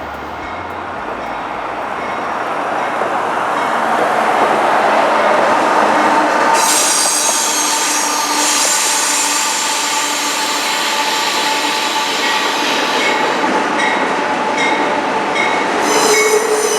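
Norfolk Southern locomotives roll through a rail yard nearby, a loud continuous rumble of engines and wheels with high metallic squealing that rises partway through and persists, close and steady throughout.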